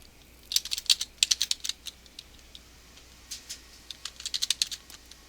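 Keys clatter on a computer keyboard as a username is typed, quick bursts of clicks with short pauses between, close and fairly quiet with no talking.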